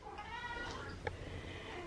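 A house cat meows before feeding, giving a drawn-out, wavering call at moderate volume against a steady indoor background hum, with no talk over it.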